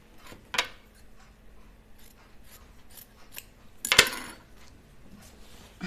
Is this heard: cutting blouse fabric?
yes